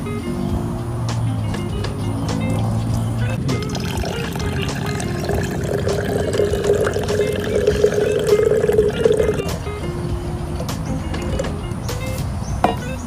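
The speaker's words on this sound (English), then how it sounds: "First, this green tea will be poured into a jug." Prepared matcha green tea poured into a jug, a steady liquid trickle building over several seconds then stopping, heard close over a constant background hum.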